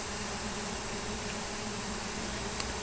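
Bees from a swarm buzzing around a hive box at night, a dense continuous hum filling the air close by, steady and unbroken with no talking.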